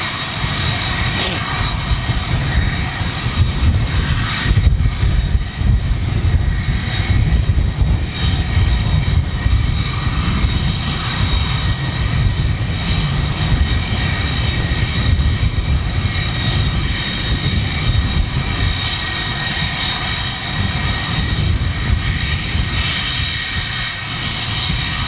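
A TUI Boeing 757 airliner at Manchester Airport roars with a steady, loud jet engine drone that holds for the full duration, dense and continuous with a broad rumble.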